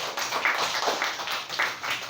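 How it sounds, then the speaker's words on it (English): Grade 2 pupils in a classroom give a round of applause for a classmate, a dense, busy patter of small hands clapping continuously without talk. "A round of applause for her, please."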